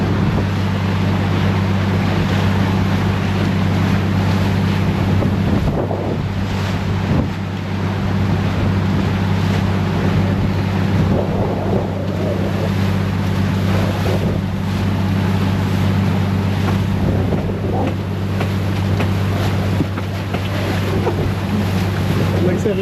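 A boat engine drones steadily and loudly throughout while the craft runs on the water off Siargao ahead of a typhoon, with wind buffeting the microphone and water rushing alongside.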